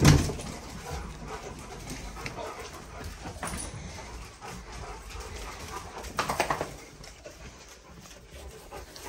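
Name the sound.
dogs whining before feeding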